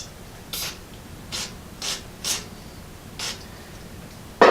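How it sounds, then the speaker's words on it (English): Short bursts of silicone lubricant sprayed onto a rubber gasket for a fuel-tank sending unit, about five quick hissing puffs spaced unevenly, close and fairly loud, with no talking. "I'm just going to spray a little bit on this rubber to keep it slippery"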